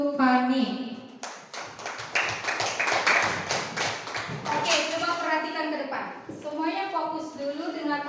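A classroom of fourth-grade primary pupils claps for a classmate, a dense burst of many hands that swells mid-clip, with a teacher's voice and children's voices over it at the start and end.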